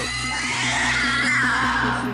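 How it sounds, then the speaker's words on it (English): Pigs with blistered backs screaming inside an animal testing lab, a continuous loud, shrill, wavering squeal filling the whole stretch, close by. "Screaming pigs with blistered backs are swabbed with chemicals."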